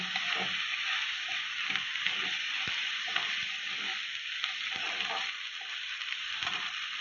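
Garlic and ginger paste sizzles steadily in a hot frying pan with oil as it is stirred in, with occasional scrapes and clicks of the spoon against the pan.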